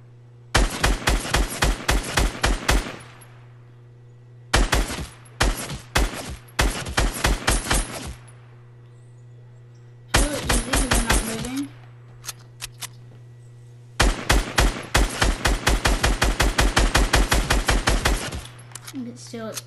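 Burst-fire rifle shooting at bots in video game aim practice, in loud, close volleys of rapid cracks split into several groups with short pauses between them.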